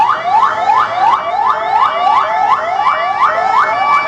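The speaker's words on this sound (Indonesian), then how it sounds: "Kita lihat satu mobil ambulans meninggalkan lokasi." An ambulance siren wails as the ambulance leaves the scene of a street disturbance, loud and close, with a fast repeating rising sweep about three times a second and no voices.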